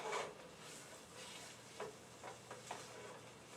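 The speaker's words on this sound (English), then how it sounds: "With the chicken in the pan, I can stir it around in the ingredients." Chicken stirred and sizzling in a pan with ginger, a soft steady frying hiss broken by a few light scraping stir strokes, faint and close with no talk.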